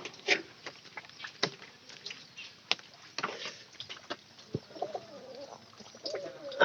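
Domestic pigeons at a home coo softly in short, repeated low calls, fairly faint and close, with scattered small knocks and rustles around them and no talk.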